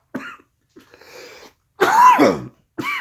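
Several coughs and throat-clearing bursts from a person who has just inhaled powdered sugar while eating ricotta pie, close up and loud, with short pauses between them and no talk.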